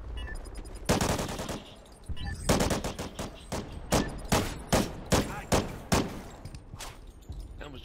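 Video game gunfire in a round-based objective shooter match: a rapid burst of loud shots, then a rhythmic run of sharp, evenly spaced reports, close and prominent with no talk.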